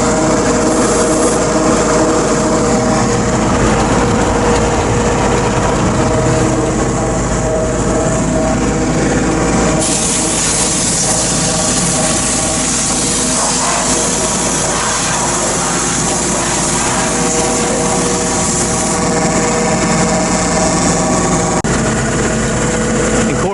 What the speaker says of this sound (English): That's an idle right there with it spinning at that speed.